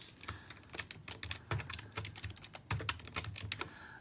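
Fast, close keystrokes on a computer keyboard tap out an irregular run of clicks, with a few heavier key presses standing out, alone and without speech.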